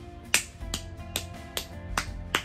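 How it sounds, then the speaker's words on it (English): Sharp hand claps, spaced singly about every half second or so, crisp and close with no one talking. "I want to give y'all some claps right here"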